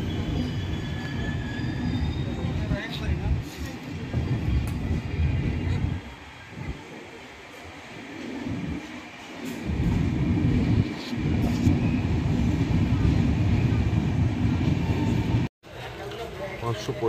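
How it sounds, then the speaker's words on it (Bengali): A passenger train pulls out and runs on toward New Jalpaiguri, its steady low rumble and wheel noise filling the clip with a brief dip midway and a sharp drop near the end; a voice talks faintly underneath. "পাঁচ মিনিট পরে আবার যথারীতি ছেড়ে দিল ট্রেন আমাদের।"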